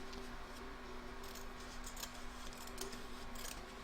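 Scissors trimming excess fabric from a machine-embroidered lace and fabric piece, several soft close snips under a faint steady background hum.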